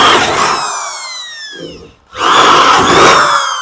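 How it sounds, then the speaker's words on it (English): A power drill cuts through two stacked metal body panels on a 1968 Pontiac Firebird tail panel. It makes loud, whining bursts with a sliding pitch, a brief pause, then another strong burst. "I drilled through both of them"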